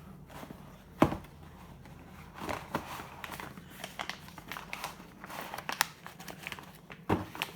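Close-up rustling and crinkling of individual plastic bags holding connecting rods from a 408 stroker kit for a Dodge 5.9, with irregular crackles and a few sharper snaps throughout.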